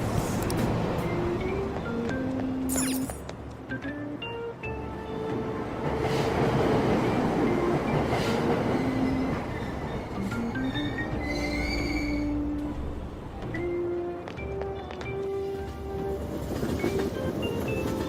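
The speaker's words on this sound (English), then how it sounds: "Train doors are now closing." A subway train departs in the video game Persona 5: a steady loud rumble of rail travel with squealing wheels and chiming signal tones, continuous and close throughout, with no talk.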